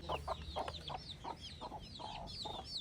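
Chickens cluck repeatedly as they are carried out in a rural Hmar tribal village in Dima Hasao, Assam, with short irregular calls close by and no talk.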